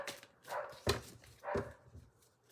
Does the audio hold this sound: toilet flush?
no